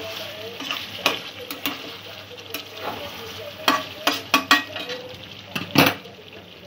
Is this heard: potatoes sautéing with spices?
yes